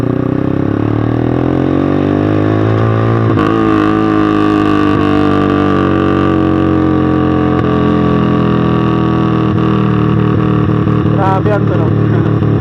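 A Sigma 250cc sportsbike fitted with an aftermarket SC Project exhaust runs steadily, a loud, close, continuous droning engine note with a few small revs, and talk faintly under it.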